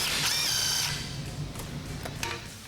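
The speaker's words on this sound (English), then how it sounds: "we're going to be using a 10mm socket to get these clamps off" A 10mm socket on a ratchet loosening intercooler pipe clamps on a Ford F-150 EcoBoost, a quick whirring ratchet burst followed by a few sharp clicks, close and quiet with no talking.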